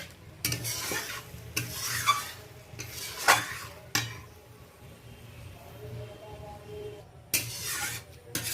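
Ground spice paste mixed with water in a hot pan gives repeated scraping stirs over a soft sizzle, several short bursts of spoon against metal with quieter gaps between.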